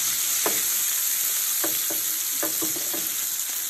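Peppers fry in a pan with a constant bright sizzle, while a spatula stirs them in several short scraping strokes that sit close and clear over the hiss.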